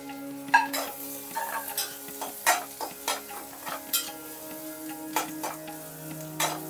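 Onion, garlic cloves, ginger and chopped coriander stems roast in oil in a pan, a soft sizzle under repeated clinks and scrapes of a spoon stirring against the metal, close and fairly quiet.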